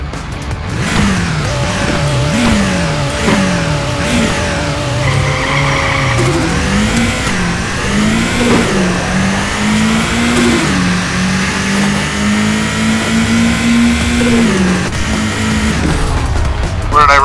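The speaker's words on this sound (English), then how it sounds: "now I'm gonna race my Subaru" Subaru Impreza STI drag racing in the Nitro Nation video game: a loud, close engine revving and climbing through repeated gear shifts, with rising and falling whines and tire squeal, continuous throughout.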